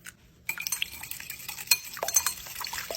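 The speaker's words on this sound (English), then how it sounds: "Adding 2 tablespoons of water." Water splashes and trickles into a mixing bowl for a few seconds, two tablespoons added to a flour batter, with light clinks of the container, close and fairly quiet.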